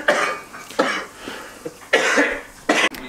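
A man with a cold coughing in a short series of harsh, raspy bursts close by, about four coughs with brief pauses between them and no talking.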